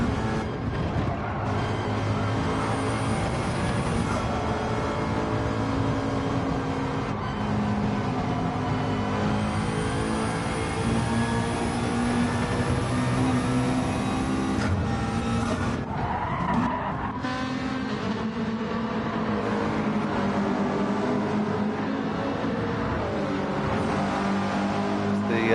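A race car in a racing video game screams at high revs through a long continuous run, its engine pitch rising and falling with shifts and throttle lifts, and tires squealing now and then.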